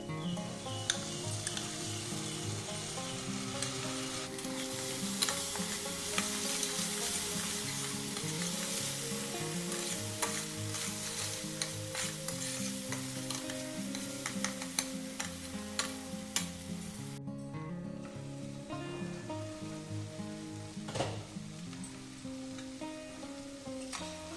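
A paste of ground ginger, garlic and green chili fries in hot oil for a paneer dish, a steady dense sizzle with scattered spatters and stirring clicks throughout, with no talk.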